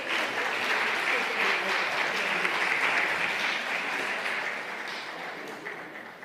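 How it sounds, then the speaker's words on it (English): Sustained audience applause for a panel at a climate justice summit, a dense steady wash of many hands clapping at once, fairly loud and tapering slightly toward the end. "can we give another round of applause for that panel?"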